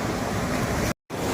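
Ocean surf breaking on the sandy shore of Katchal Island, a steady broadband wash of waves with some wind, continuous and fairly loud, cut by a brief silent gap near the end.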